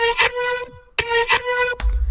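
A bright, robotic vocal chord with a buzzy synthesized timbre sings two sustained phrases, each starting on a punchy hit, ending in a low thump.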